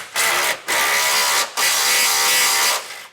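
A ratchet with a 15 mm socket removes jounce bumper nuts on a 2024 truck, producing three bursts of rapid clicking separated by short pauses, loud and close.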